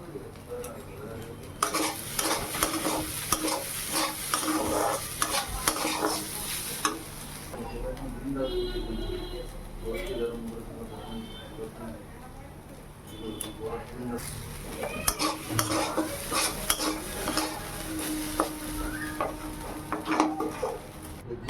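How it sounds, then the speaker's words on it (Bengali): Fried carrot, potato and flattened rice are stirred in a pan, with repeated scraping and clinking of a spatula over a soft sizzle and a break midway. A voice speaks at times. "ভালো করে নাড়াচাড়া করে নামানোর আগে একটু চিনি দিয়ে নামিয়ে নেবো"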